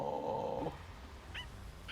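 A dog in the Spy x Family anime, Season 2 finale, lets out a sustained whine followed by two short, high yips, fairly close and with no talking over it.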